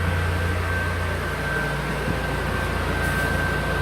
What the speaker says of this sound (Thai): นี่ครับแอร์หลังเสียงแอร์ดังนะฮะ